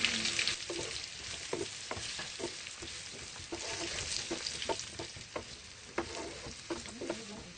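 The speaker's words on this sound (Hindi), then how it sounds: "पोटैटो को हम हल्का गोल्डन करेंगे।" Garlic potatoes frying and being stirred in a pan, a steady close sizzle with regular scraping strokes of a spoon against the pan, no talking.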